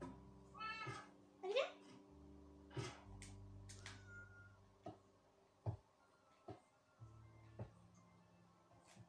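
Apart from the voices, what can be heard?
cat meowing in the video game Minecraft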